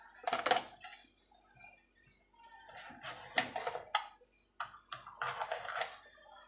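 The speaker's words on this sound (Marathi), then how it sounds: "आता आपण शिमला मिरची देखील अशीच गोल कापून घेणार आहोत।" A knife slices capsicum into thin round rings on a cutting board while making pizza, giving a few short, crisp cutting bursts separated by pauses.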